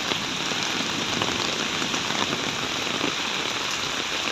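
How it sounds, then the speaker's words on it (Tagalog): Heavy rain from a typhoon drums steadily on a roof, a dense constant patter with no pauses or voices. "maulan pa rin hanggang ngayon"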